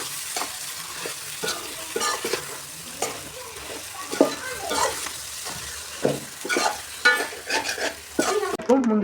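Chicken crackles and sizzles in a hot pan as biryani masala is stirred in, with repeated scraping strokes of a spoon against the metal and no talking.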